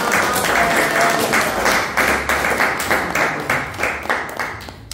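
A church congregation claps in praise, a dense, loud burst of many hands with a regular beat running through it, with voices calling out beneath.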